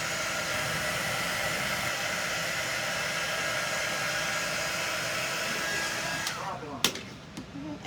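A hair dryer blows a steady, loud whoosh for about six seconds to quickly dry chalk paint on a door tag, then cuts off. A couple of sharp knocks and some handling noise follow.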